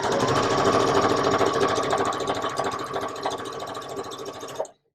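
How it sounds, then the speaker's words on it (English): A sewing machine stitches a quarter-inch quilting seam, running continuously, its rapid needle chatter steady and close, slowing slightly before stopping abruptly. "we're going to sew a 1/4-inch seam along both sides of each of these lines"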